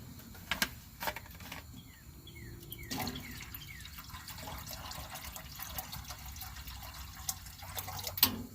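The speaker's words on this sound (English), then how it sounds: "We're going to put that much water in there." Water pours and splashes into a pot holding pickle jars in a home kitchen, with a steady trickle broken by sharper clinks and knocks, close and fairly quiet.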